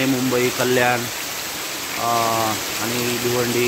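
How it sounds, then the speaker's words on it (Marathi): Very heavy monsoon rain pours down in a steady, dense hiss that fills the background, with someone talking over it throughout. "हे बघा आता तर खूप अतिमुसळधार पाऊस सुरू झालेला आहे"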